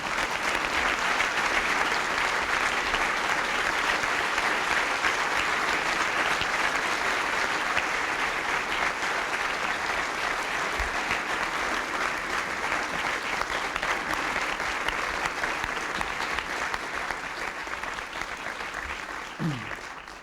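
Sustained audience applause for Johnny Cash at a Kennedy Center honors ceremony, a thick, even wash of clapping from a large hall that carries on for about twenty seconds before tapering off at the end.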